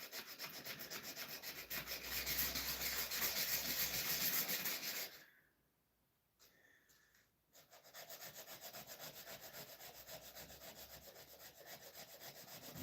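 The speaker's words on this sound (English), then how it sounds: "just using sandpaper to get the rust off these" Sandpaper of 320 grit rubs rust off antique woodcarving tools in a close, steady scratchy scrubbing that halts for about two seconds midway, then resumes.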